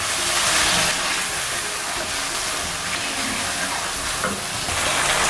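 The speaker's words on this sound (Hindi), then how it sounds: "इसे थोड़ा सा हम फ्राई करेंगे।" Chicken pieces fry with spices in a pan, giving a steady, loud sizzle and hiss that runs unbroken throughout with faint stirring beneath, no voices present.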